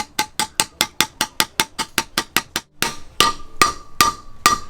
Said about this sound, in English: Flip them over, better surface area for whacking with your hammer.